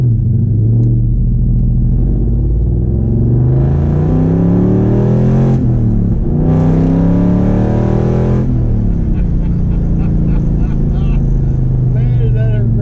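1968 fastback car after a rebuild, heard from inside while driving: a loud, constant engine rumble climbs through two strong accelerations with a lift between, then settles as voices talk over it near the end.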